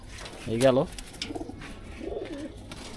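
A pigeon gives a soft, throaty coo near the microphone, while people talk quietly around it.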